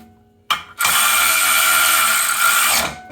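A power tool tightening bolts on a UTV secondary clutch starts after a short click and then holds one loud, steady whirring run for about two seconds before it stops, close by with no talk.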